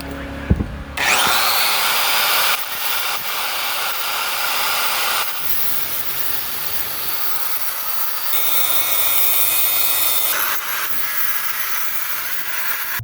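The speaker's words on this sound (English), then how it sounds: "If you're gonna cut them off with a grinder" An angle grinder cutting off exhaust pipe bolts on a 2013-2018 Ram 6.7L Cummins diesel, giving a loud, harsh, sustained whine in several long passes with brief pitch shifts as the cut bites.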